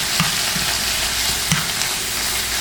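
Shrimp searing in a hot frying pan for shrimp fried rice, a steady broadband sizzle with a few soft stirring knocks scattered through, close and fairly loud, no voices.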